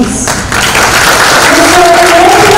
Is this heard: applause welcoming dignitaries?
yes